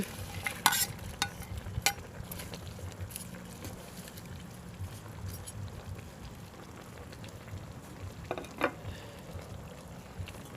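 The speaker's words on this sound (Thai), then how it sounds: "ใส่ต้นหอมลงไปค่ะ ต้นหอมหั่น" Spoon stirring a pot of Thai Isan-style pickled bamboo shoot curry with chicken just after sliced spring onions go in, with soft bubbling and scraping plus a few sharper clinks of the utensil against the pot.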